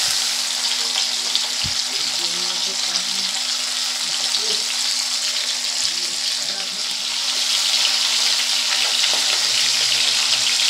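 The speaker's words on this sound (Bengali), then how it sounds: "ফার্সে মাছগুলোকে আমি ভালো করে ভেজে নেব।" Small Persian fish fry in hot oil in a pan, giving a continuous close sizzle and crackle with a few sharp clicks of a utensil against the pan.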